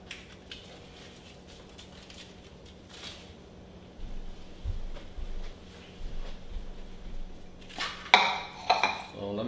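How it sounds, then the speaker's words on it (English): A cooking utensil is washed, with faint clinks and knocks of metal and dishes, quiet handling noise, and a burst of louder clattering and running-water splashes near the end. "Let me go wash it real quick."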